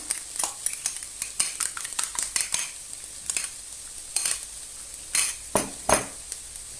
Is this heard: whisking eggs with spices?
yes